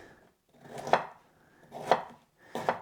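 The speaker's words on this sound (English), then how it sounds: "dice that up" Broccoli being diced with a knife on a cutting board, three firm chopping thuds spaced about a second apart, close and clear with no talking.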